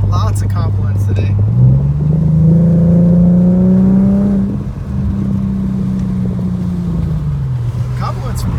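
An Infiniti Q50 drives on damp roads, its engine note a steady, close hum that climbs in pitch as it accelerates, holds high, then eases back down.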